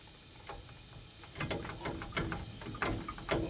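A ratchet loosening a brake caliper bolt on a 2003 Ford F350 Super Duty, a string of quick clicking strokes that grows louder and more regular after a quiet start, close up, with no talk.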